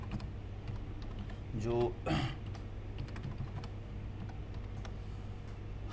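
Rapid keystrokes on a computer keyboard as an administrator password is typed during Windows Server 2022 domain setup, a short burst of clicks amid faint room hum, with a brief word spoken.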